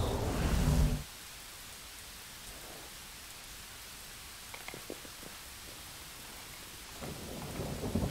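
Blood rain with thunder in Pathfinder: Wrath of the Righteous, a heavy rumbling burst that cuts off after a second, then a low steady rain hiss with a few faint ticks before the rumble swells again.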